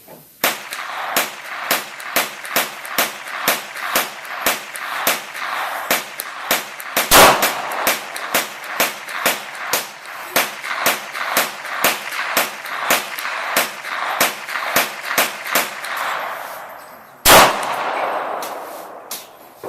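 Gunfire at an outdoor shooting range, with an Arsenal AK, CZ 82 and Glock 19 in use: a long run of sharp, loud, evenly spaced shots, with two heavier, booming reports standing out near the middle and end.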